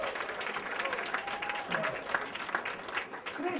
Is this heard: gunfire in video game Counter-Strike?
no